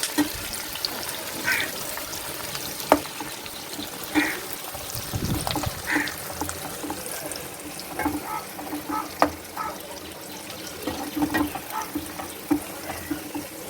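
Onions frying in oil over high flame toward golden brown for chicken dum biryani produce a close sizzle, broken by irregular stirring clatters and scrapes, with no talk.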